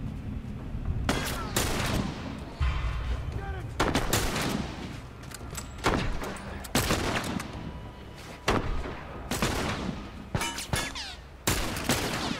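Rapid bursts of gunfire from The Last of Us video game, loud repeated shots and volleys spread across the clip, sharp and close, with game sounds in between.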